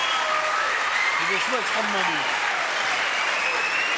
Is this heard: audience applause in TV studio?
yes